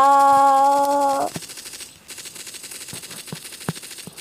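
A trench warfare video game: a brief sustained tonal blare gives way to fast, rhythmic machine gun fire rattling in quick bursts, with sharper thumps mixed in.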